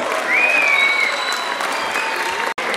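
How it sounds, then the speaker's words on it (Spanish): Audience applause welcoming a master of ceremonies at a community event in Orocovis, Puerto Rico, a full steady round of clapping, with a whistle cutting through and a brief dropout near the end. "Fuerte el aplauso"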